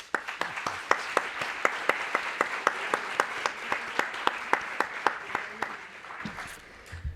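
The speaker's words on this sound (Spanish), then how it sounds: "vamos a recibirle con un fuerte aplauso" Audience applause at a lecture welcoming a speaker: a fairly sparse hall of clapping with distinct, regular claps from nearby hands, steady for several seconds before thinning out.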